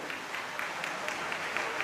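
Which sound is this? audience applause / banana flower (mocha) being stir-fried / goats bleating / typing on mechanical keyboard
audience applause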